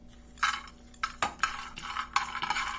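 Peanuts being fried and stirred in a pan, with sharp spoon-on-metal scrapes and clinks coming in several quick bursts up close, with no talking.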